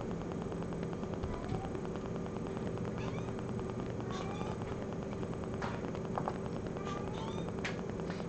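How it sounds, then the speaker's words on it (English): Several cat meows ring out over a steady low hum, some short and some drawn out, fairly close and moderately loud. "Also, Anara is outside of our door meowing very loudly as well."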